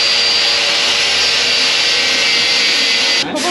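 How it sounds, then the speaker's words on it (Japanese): A race tire is shaved with a loud, continuous grinding whir that holds steady for about three seconds, then cuts off abruptly near the end. "タイヤ削るの苦手なんですよ。"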